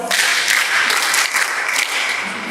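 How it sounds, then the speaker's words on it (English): Children at a girls' camp lesson clap for a student, a lively burst of many small hands clapping close by, steady and dense for a couple of seconds before easing slightly. "Clap for him."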